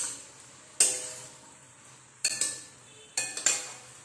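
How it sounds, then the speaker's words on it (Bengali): A utensil stirs a mixed vegetable curry, with cumin powder just added, in a pan, making three sharp scraping clinks spaced over a few seconds against a quiet background. "আবার নেড়ে দিচ্ছি।"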